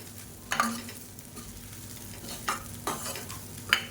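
Cooked rice being stirred and mixed in a pan for egg fried rice, with a few soft scraping strokes and faint sizzling at a steady low level.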